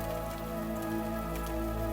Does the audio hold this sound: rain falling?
yes